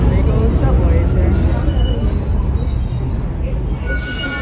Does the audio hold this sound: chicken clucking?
no